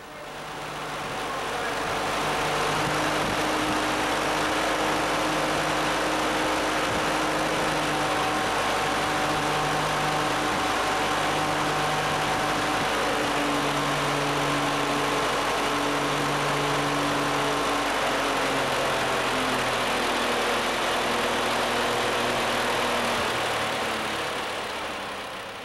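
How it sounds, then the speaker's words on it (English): A pump engine under automatic throttle control ramps its speed up and down to hold a set fluid level. The loud, steady, close drone steps gradually between higher and lower pitches. "The pump will continue to operate in this pattern, ramping up and down, in order to maintain a fluid level of 300 inches."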